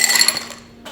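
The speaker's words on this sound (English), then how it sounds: "And this is where you're gonna add the ice" Ice clinks and rattles into a pint glass while a whiskey smash cocktail is made, a quick burst of bright, close clattering that fades within a second.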